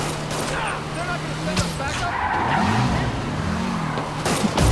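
Car skidding in the Marvel's Spider-Man video game, a rumbling engine with wavering tire squeals and scraping bursts, chaotic and close, with people talking through the action.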